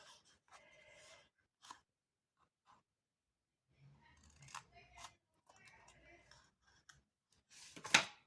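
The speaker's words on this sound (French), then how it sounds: "Donc, je coupe en biais." Scissors snip diagonally through scrapbooking paper for a small decorative box, a few short separate cuts and clicks spread across a quiet room, with brief rustling between them.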